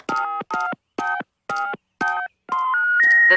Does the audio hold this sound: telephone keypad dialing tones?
yes